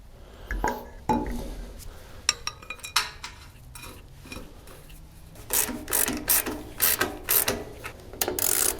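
Ratchet wrench tightening bolts on an excavator hydraulic tank with a thick O-ring, giving repeated bursts of rapid clicking with metallic clanks between them, close and fairly loud.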